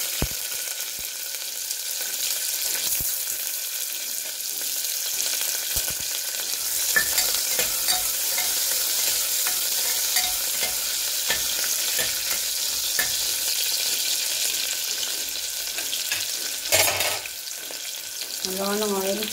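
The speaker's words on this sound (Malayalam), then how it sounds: "അതിലേക്ക് നമുക്ക് കുറച്ച് സവാള ഇട്ട് കൊടുക്കാം" Sliced onions fry in hot oil in a pressure cooker, giving a loud, steady sizzle and crackle that runs throughout, with occasional stirring scrapes and a brief clatter near the end.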